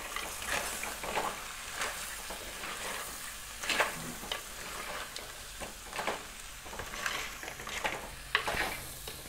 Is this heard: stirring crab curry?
yes